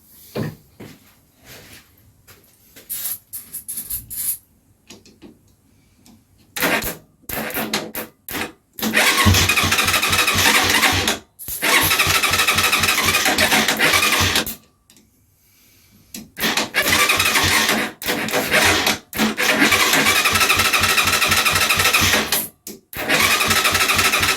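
A Pioneer Nevada 125cc Chinese motorcycle engine starts and rumbles in bursts, revving up and dropping off between short quiet gaps, with some clunks in between.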